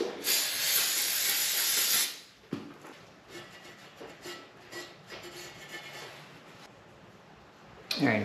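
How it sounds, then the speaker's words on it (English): An aerosol can of brake cleaner sprays onto a rag during motorcycle oil pan cleaning: a loud two-second hissing burst up close, a quieter stretch of handling noise, then a short second spurt at the end. "Get some brake clean and I'll spray it on a rag"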